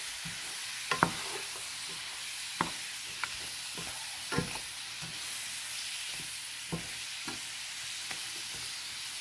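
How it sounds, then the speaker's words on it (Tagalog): Chicken soup (tinolang manok) being stirred in a pot, giving a series of scattered utensil knocks and scrapes against the pot over a low steady simmering hiss, with no talking. "Saka natin siya guys haluin at tatakpan."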